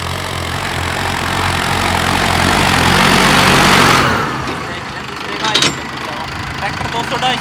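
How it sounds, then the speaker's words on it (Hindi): A Mahindra tractor engine runs at reduced RPM in a steady, loud mechanical drone that drops away partway through, leaving a quieter idle with a few brief knocks. "आरपीएम थोड़े ड्रॉप करके चल रहा है ट्रैक में"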